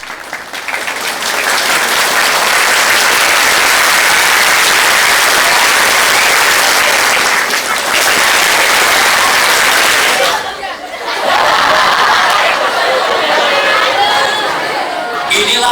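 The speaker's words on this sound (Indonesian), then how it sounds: "Inilah masalah applause hypnotic" Loud, sustained applause fills a school hall during a motivation training session at SMPIT Assu'adaa in Bekasi, clapping dense and steady with a brief lull near the end before surging again, crowd voices mixed in.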